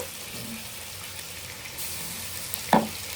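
Green masala paste fries with onions in a pan for a fish curry, a low steady sizzle heard close with light stirring and one brief clatter near the end.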